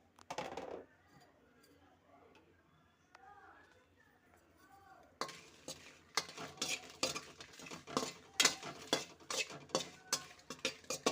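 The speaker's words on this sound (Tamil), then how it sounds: "நீட்டு மிளகாய் 3, குண்டு மிளகாய் 3 இதையும் வறுத்து எடுத்துக்கிறோம்." Long and round dry red chillies dry-roasting in a pan for lentil spice powder, with soft talk at first, then rapid, close scraping and clattering as they are stirred, growing busier toward the end.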